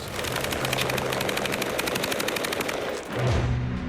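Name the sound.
light machine gun automatic fire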